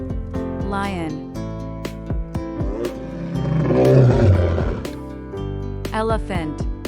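A deep, rumbling lion roar swells to a loud peak midway, set between bursts of other animal calls and brief voices.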